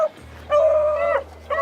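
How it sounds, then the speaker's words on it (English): Hunting dogs give high whimpering yips and drawn-out bays while trailing a rabbit's scent, two sustained cries and a third starting, fairly close and clear with no talk. "all you hear is the dogs going, and they get further and further away"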